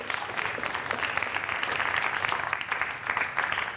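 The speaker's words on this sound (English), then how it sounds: "give yourselves a big round of applause" A school audience at a Battle of the Books event applauds in a steady, dense wash of clapping, moderately loud and continuous for a few seconds with no talk over it.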